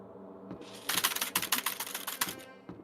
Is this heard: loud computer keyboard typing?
yes